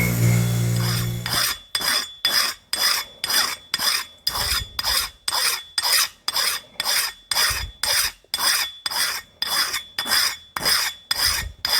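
Rust is filed off a steel axe head with a hand file in about twenty even, rasping strokes, close and loud, each scrape separated by a short pause, after a brief low hum at the start.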